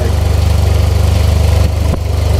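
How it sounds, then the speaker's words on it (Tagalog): A Yamaha TMAX scooter engine idles loud and close with a steady throbbing pulse, briefly dipping as the throttle shifts, no voices. "Gusto namin marinig yung scooter na ganyang kalaki kung paano tunog niyan."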